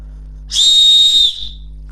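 One loud, shrill whistle blast lasting under a second, steady in pitch, over a low background hum.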